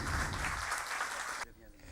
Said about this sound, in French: je voudrais que vous l'applaudissiez